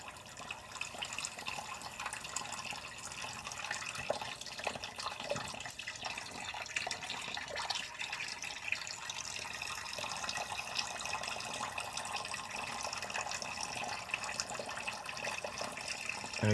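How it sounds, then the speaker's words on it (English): Hot tap water runs steadily and continuously into a sink while a head is shaved with a disposable Gillette Sensor 3 razor, a constant broadband splashing hiss at moderate level with no talk. "I have this water running so I can keep on wetting it pretty nicely"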